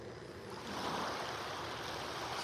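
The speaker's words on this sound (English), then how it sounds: "It is a gorgeous, gorgeous morning here in North Naples on Vanderbilt Beach." Ocean surf rolls in at Vanderbilt Beach in North Naples, Florida, on a calm morning. The wash is soft and distant and swells slightly louder partway through, with no voices.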